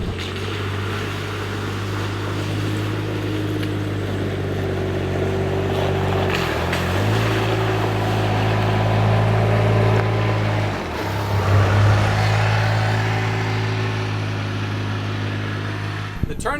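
A Kubota RTV 1100C four-wheel-drive side-by-side UTV with diff lock drives off-road, its diesel engine a steady close drone that briefly dips and swells as it works over terrain, while someone talks throughout.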